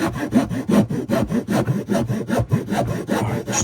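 A cheap hand rasp bought from Aldi or Lidl chews aggressively into a wooden block in quick, regular strokes, each a coarse scraping rasp. About a dozen close, loud strokes follow one another with no talking.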